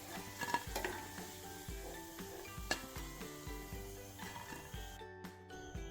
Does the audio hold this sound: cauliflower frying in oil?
yes